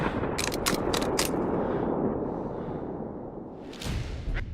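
A sniper rifle in a video game fires with a loud, close crack and rolling boom, followed by mechanical clicks and a whooshing tail, then a second sharp burst near the end.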